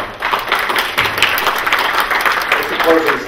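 An audience at a community board of directors candidates forum applauds, with dense, steady clapping that fills the whole stretch at a fairly loud, even level.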